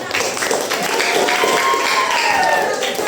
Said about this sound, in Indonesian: Oke, tepuk tangan untuk Eka.